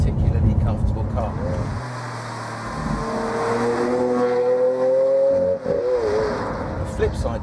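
Lamborghini Aventador supercar on the move, its engine note rising and settling as a steady, prominent drone under someone talking over it throughout.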